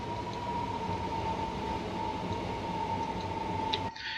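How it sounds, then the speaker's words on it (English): A train passing in Train Sim 2019, heard on the line out of Waterloo: a steady, loud rumble with a sustained whine running throughout, cutting off abruptly near the end, with no talking. "There's a train somewhere."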